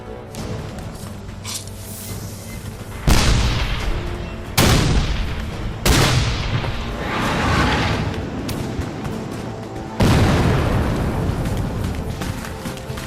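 Civil War–era cannons fire 12-pound solid iron cannonballs on a powder charge, producing four heavy booms spaced a few seconds apart, each a sharp blast with a long rumbling decay. Loud and fairly close.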